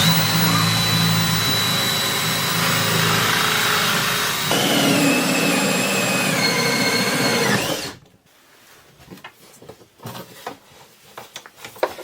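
Power drill boring holes from underneath an off-grid cabin to route solar panel cords, a steady whining motor run that shifts pitch partway, then stops abruptly, leaving scattered knocks and handling clatter.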